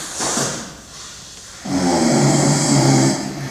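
Recorded snoring played back from a vinyl record: a long, rough inhale followed by a louder, sustained rasping snore, close and alone with no talk.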